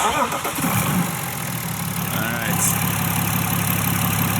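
A twin-turbo diesel BMW bought as a mechanic special cranks and fires, then settles into a steady, rumbling diesel idle heard up close.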